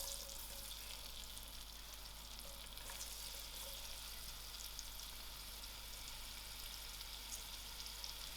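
Chopped onions and leek fry in oil in a pot, giving a steady, close sizzle with faint stirring that carries on evenly throughout, with no voices.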